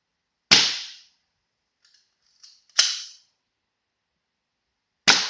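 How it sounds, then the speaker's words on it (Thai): A J.95 No. 2 BB air rifle fires three sharp, loud cracks spaced a few seconds apart, with faint mechanical clicks of cocking between the first two shots. "ใส่เข้าไปเสร็จขึ้นลำเลย ยิงได้เลย"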